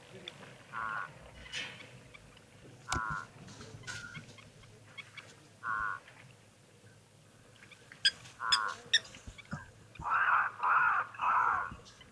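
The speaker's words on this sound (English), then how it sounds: "Definitely hear the crows." Several crows caw in short harsh calls, some single and one rapid run of three near the end, moderately distant over a quiet outdoor background at a waterhole.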